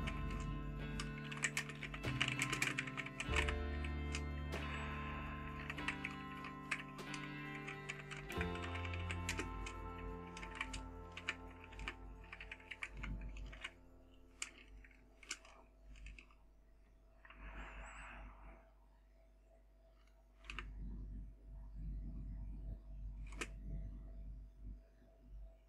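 A long stretch of typing on a computer keyboard while writing program code in capital letters, dense clattering keystrokes at first, then sparser taps and pauses, near and fairly clear with no speech.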